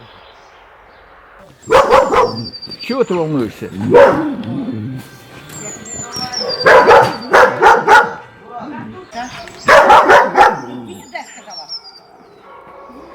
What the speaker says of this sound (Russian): Невоспитанная собака.